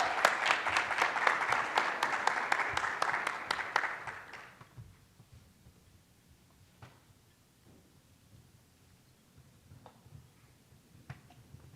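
A conference audience applauds its honorees with a burst of crisp, dense clapping that fades out after about four seconds, leaving a quiet room with only scattered faint taps.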